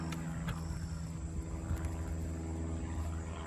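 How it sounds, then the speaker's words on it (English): A propeller airplane passes overhead during a backyard potato dig, its engine giving a steady, fairly loud drone with a pulsing low rumble that holds throughout. "We've decided to have a plane come over and practice turning his engine on and off."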